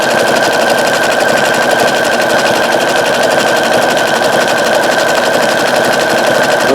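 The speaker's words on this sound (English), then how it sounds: "It's sewing beautiful. And it really is sewing nice." A Brother CS-8150 sewing machine stitches at a stitch length of 3.0 after a repair to its broken motor screw post. The rapid mechanical chatter is loud, close and even throughout, with no voices.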